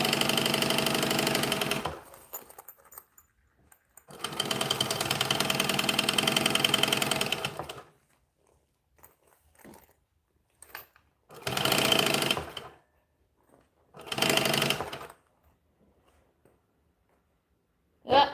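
Sewing machine stitching seams on a foam costume, running in four bursts, two long and two short, with quiet gaps and faint handling clicks between them.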